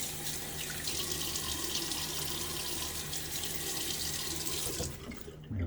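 A bathroom tap runs steadily into the sink while a face is wetted before a wet shave, a constant close rush of water that cuts off near the end.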